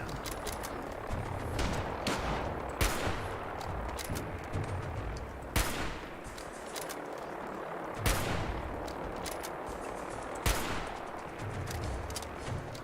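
Rifle gunfire in Fallout 4, loud scattered shots and short bursts cracking over a dense, noisy battle background for the whole stretch, with several sharper isolated reports standing out at intervals.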